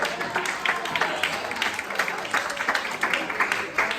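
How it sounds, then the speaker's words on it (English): A comedy show audience giving a round of applause, uneven clapping with some louder individual claps rising out of the crowd, while a voice talks over part of it. "Another round of applause, y'all."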